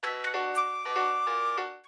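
A short chiming notification bell sound effect rings a quick run of bright tinkling tones that hold briefly and then cut off, heard alone.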